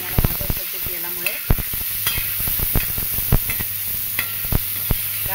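Tomatoes roast in hot oil in a pan for a village-style chili and tomato thecha, a steady sizzle punctuated by frequent sharp clacks and scrapes of a spatula stirring, no talking.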